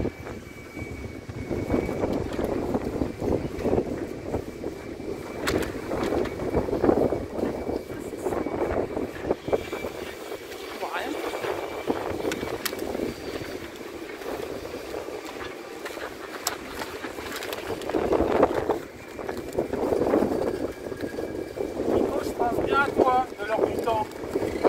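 Strong Mistral wind roars and buffets the microphone around a sailboat near Les Embiez, France, with rushing water and hull noise throughout and voices talking now and then.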